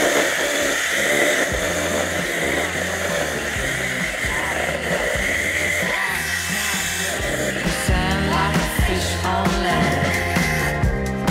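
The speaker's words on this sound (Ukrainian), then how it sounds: "зараз давайте попробуємо, як ріже сухе дерево" A Revolt BCS 280 cordless mini chainsaw on a 21700 battery cuts through dry standing deadwood, its motor whining steadily and close with a rhythmic pulsing as the chain bites, dipping and rising through the cut.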